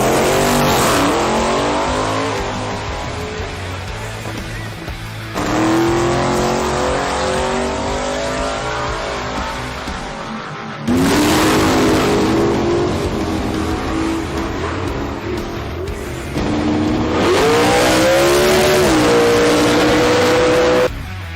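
A drag racing car in the Kenda 660 drag radial series roars down the track at Willowbank, Australia, its engine rising through loud, sustained pulls with gear changes and brief drops between runs.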